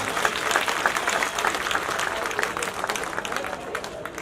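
Crowd at a Congress party public rally in Badli welcomes Dr. Udit Raj with dense, loud applause that continues steadily from start to finish.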